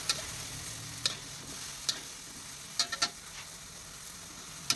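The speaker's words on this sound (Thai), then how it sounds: "อันนี้ต้องผัดนานขนาดไหน ถึงไหลบัวจะสุก" Shrimp and lotus stolons are stir-fried in a pan, giving a soft, steady sizzle with sharp spatula clicks and scrapes against the pan at irregular intervals, close by and fairly quiet, with no voices.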